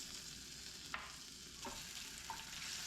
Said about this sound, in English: First one, add our bacon.